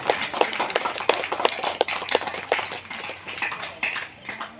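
An audience claps to applaud children at a church festival, a brisk run of sharp handclaps from a modest crowd close by, fairly loud and sustained before thinning slightly toward the end.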